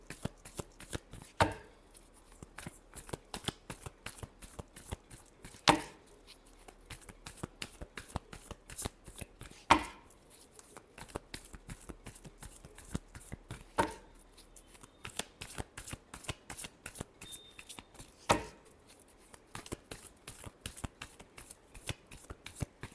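Tarot cards riffle and flick in a rapid, crisp, steady patter that goes on for over twenty seconds, broken by a few sharper slaps as the deck is squared, close and fairly quiet.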